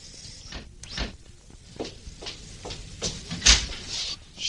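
Garden gate swinging open as a radio drama sound effect, with soft creaks, a latch-like clack and footsteps-style knocks spread over a few seconds, fairly close and moderately quiet with no talk.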